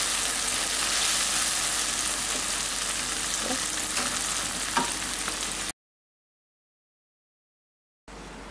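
Sambal chilli paste fries in oil for a Mee Siam sauce, a steady dense sizzle with a few soft stirring scrapes, then a sudden gap of silence before the sizzle returns.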